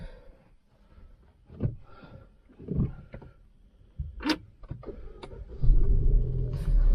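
Peugeot 208 GT 2021 engine cranking and catching, then settling into a steady close idle rumble from inside the cabin, preceded by a few interior clunks and clicks.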